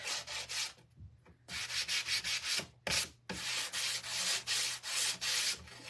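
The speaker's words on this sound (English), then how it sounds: "I am going to sand some of the edges just a bit" Sandpaper rubbing along the edges of a wooden home windmill part in steady, close back-and-forth strokes with a brief pause partway through and a low hum underneath.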